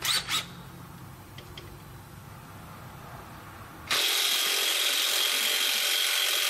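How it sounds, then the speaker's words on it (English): An impact gun removes Torx bolts from a Dodge G56 transmission during a dual disc clutch install. After a few seconds of quiet shop ambience, the tool bursts into a loud, continuous run that lasts to the end. "we can come back in with the impact gun and get them out"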